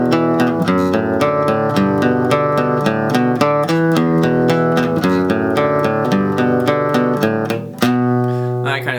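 Electric guitar playing a riff with both endings, a steady rhythmic pattern of picked chords and single notes, close and clear, with no talking.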